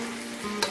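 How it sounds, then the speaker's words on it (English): Half rings of onion sautéing in a pan over medium heat, a steady soft sizzle with a faint stirring clatter near the end, close and moderately quiet with no talking. "And then in a medium heat,"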